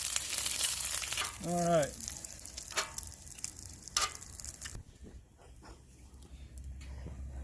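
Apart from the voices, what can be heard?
bacon sizzling on Camp Chef Explorer 2X stove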